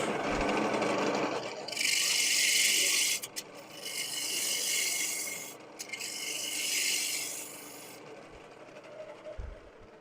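Spindle gouge cutting a spinning wood workpiece on a lathe: a steady rasping, hissing cut in several sustained passes separated by brief gaps, fairly close and loud, with no talk.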